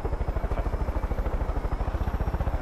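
Helicopter in the Far Cry 5 video game, a steady rhythmic rotor thump pulsing rapidly and evenly under a whining engine hum, close and continuous, no talk.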